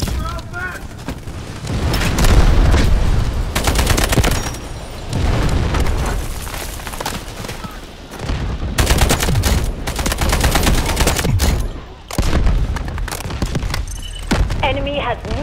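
Artillery barrage in the military shooter Delta Force: loud, dense booming explosions and rolling gunfire pounding almost continuously close by, with brief lulls between heavy volleys.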